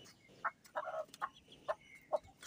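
Hens fighting with a newly added hen give a handful of short, sharp clucks and squawks in quick irregular bursts, fairly close but soft, over a quiet farmyard background.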